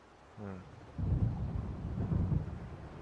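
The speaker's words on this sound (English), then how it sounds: "It seems there's a storm coming." A thunderstorm rolls in over the lake in Alan Wake, with a low, deep rumble of thunder building and swelling for a few seconds behind a brief tonal sound near the start, no talking.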